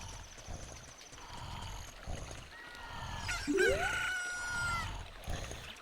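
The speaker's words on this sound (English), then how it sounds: "Look, a chicken hatched from the egg you are incubating." A chicken clucks and crows in The Legend of Zelda: Ocarina of Time, a bright rising squawk and crow heard over steady game ambience with background music, moderately faint in the mix.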